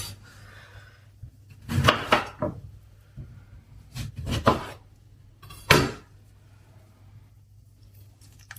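Knife slicing through fresh cranberries on a cutting board in a home kitchen, a few separate soft thuds and crisp cuts spaced seconds apart over a low steady hum, with no talking.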